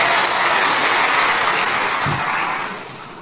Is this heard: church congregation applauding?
yes